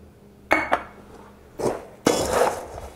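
Granola bar mixture with brown rice syrup being stirred in a bowl: close clinks of a utensil against the bowl, then longer scraping bursts, fairly loud.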